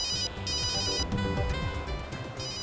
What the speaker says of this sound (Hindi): ओहो, देखो किसका फोन आया है।